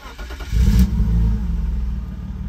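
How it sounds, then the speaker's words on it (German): A BMW E36's six-cylinder engine revs up sharply, swelling to a loud, throaty peak, then settles into a pulsing, lumpy idle, close and without talk. "War ein Sechszylinder-Motor, super Sound, ohne 8 Trilliarden Cuts dahinter."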